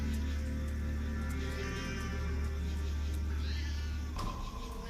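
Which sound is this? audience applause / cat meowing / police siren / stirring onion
cat meowing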